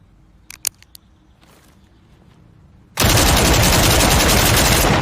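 A .308 battle rifle in the video game SCP 5k: a few faint clicks in near silence, then a sudden loud, dense burst of continuous automatic fire lasting the final two seconds.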